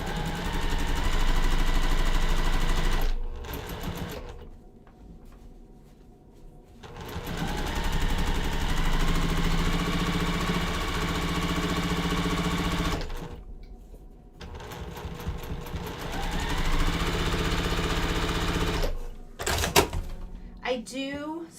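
A sewing machine stitches quilt pieces over pins in long fast runs, pausing briefly a few times and then slowing near the end, with a steady close mechanical whir and a voice talking over it.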